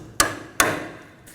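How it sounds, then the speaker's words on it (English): Two sharp metallic hammer taps on a punch against a steering knuckle pinch bolt of a Nissan Sentra, evenly spaced and close by, each ringing briefly before fading, with a quieter tap following. "We'll use a hammer and punch as necessary."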